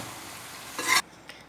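Aloo gobhi sabzi, dhaba-style spiced potato and cauliflower, gets a brief stir in the pan, a short scraping swirl over a soft background sizzle with a faint clink afterward.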